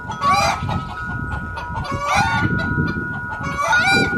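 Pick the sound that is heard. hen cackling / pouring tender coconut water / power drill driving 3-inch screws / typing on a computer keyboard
hen cackling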